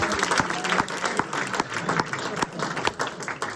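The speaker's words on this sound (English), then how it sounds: "Can you bring that down here to a thunderous round of applause?" A crowd at a magic show at MIT breaks into loud, dense applause, many hands clapping at once with sharp individual claps poking through, sustained evenly throughout.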